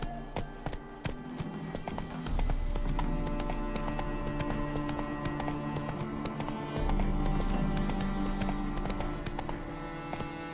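Horse hooves clip-clopping steadily at a run in The Witcher 3, a quick rhythmic patter of hoofbeats over a low rumbling ambience, with a brief tonal hum partway through.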